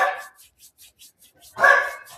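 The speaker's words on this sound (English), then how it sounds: "you can imagine which one is barking right now. It's the tiny one" A tiny dog barks in a quick run of short, high yaps, then lets out one louder, fuller bark near the end, all at close range with no talking.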